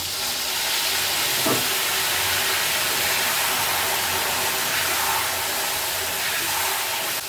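Raw banana slices fry in hot oil with a dense, steady sizzle and hiss that stays loud and even throughout, with no speech.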